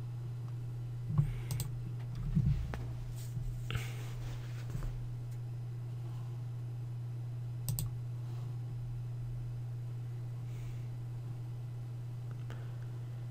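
Sparse clicks from a computer mouse while installing software, a few isolated taps spread over a steady electrical hum and faint room noise, with no talking.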